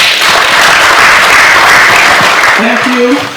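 Audience applause at a student venture capital grant launch event, a dense, loud burst of clapping from a seated crowd that fades near the end as a voice begins.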